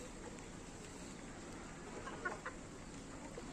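Laying hens let out soft, faint clucks on a rooftop garden, with a slightly louder cluck or two near the end over a steady background hiss.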